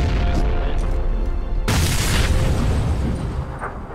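A grenade detonates in PUBG during a community tournament match: one loud, close boom bursting over dense ongoing game noise, then a rumbling tail that slowly fades.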